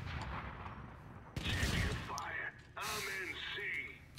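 Engineer turret in PlanetSide firing in two sustained bursts of rapid gunfire, loud and close, with a pause between them, while people talk over and around it.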